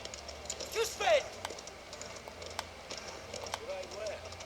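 Horse hooves clop at a gallop in the video game Mafia: The Old Country, a soft rhythmic patter under game sounds, with characters talking over it.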